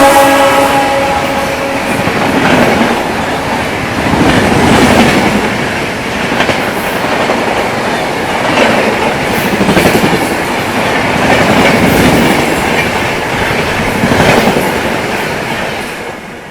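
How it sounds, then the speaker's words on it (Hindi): Andhra Pradesh Express, running from Visakhapatnam to New Delhi, rushing past at high speed: a loud, continuous roar with rhythmic clickety-clack of wheels over rail joints, close by throughout without any talk. "ये गई भाई आप लोगों की आंध्र प्रदेश एक्सप्रेस। क्या गई है भाई, क्या गई है भाई, खतरनाक रफ्तार में जो है बदला लेकर के गई है अपनी एपी एक्सप्रेस।"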